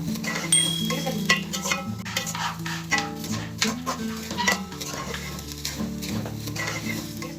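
Sweet vermicelli with chopped almonds being stirred in a pan, a steady scraping and sizzling with irregular clinks of the spoon against the metal, close and continuous under soft background music.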